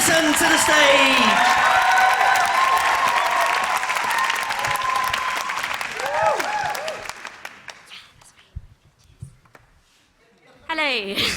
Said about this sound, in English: Give it up for Anita. Give those applause